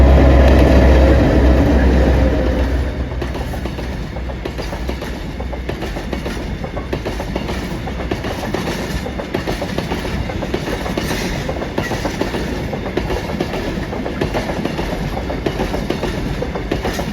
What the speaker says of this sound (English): The train has just departed Freshwater.